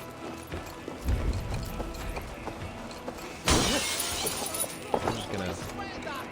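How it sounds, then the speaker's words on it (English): Stained glass windows smashed in Assassin's Creed Valhalla, a sudden bright shattering crash in the middle of the scene, preceded by game footsteps and clattering and followed by scattered tinkling debris. "I'm just gonna break all the stained glass."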